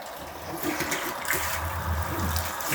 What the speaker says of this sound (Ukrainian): Працює наш насосик, краник, бачите, ледь-ледь відкритий, йде промивочка